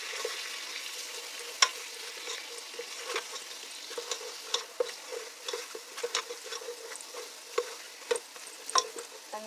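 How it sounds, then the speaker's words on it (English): Spoon stirring cornstarch into leftover beef juices in a pan over low heat, building a roux for keto beef stew; a steady soft sizzle runs throughout under irregular scraping clicks and taps, close and fairly quiet, with no talking. "I'm going to add my cornstarch and make like a roux"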